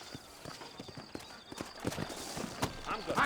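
Horse hooves clip-clop in a steady walking rhythm in Red Dead Redemption, growing slightly louder, while a voice speaks over them.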